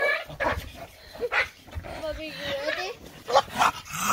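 A Staffie and a British Bulldog bark, yip and whimper up close outdoors in the snow, short bursts mixed with people talking.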